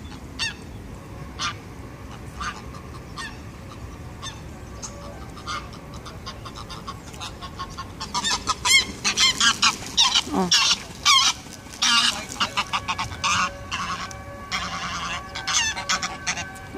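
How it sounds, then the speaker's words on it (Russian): A pair of geese honk loudly and repeatedly at an intruder, starting with sparse calls and building into a dense, rapid chorus of harsh close honks, with faint ambient background between bursts and no talking. "А одному решили тут воспрепятствовать. Гоготали на него вдвоем."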